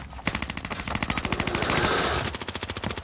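Sustained, rhythmic machine gun fire in Call of Duty: Modern Warfare, rounds pounding out in a steady rapid stream, loud and close, with a brief swell of additional noise midway through.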